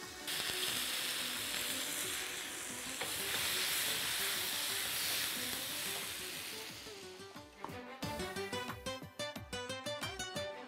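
Onion slices, bay leaf and turmeric sizzle and fry in a pan for a green chilli meat dish: a steady, loud hiss for about seven seconds, then a brief pause and a tonal, music-like passage over quieter frying.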